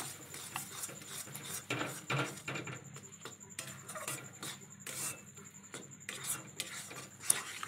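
A spatula stirs chilli powder and spices in a pan for a teasel gourd and prawn curry, making soft, repeated scraping and rubbing strokes against the metal with faint clinks, quiet and close.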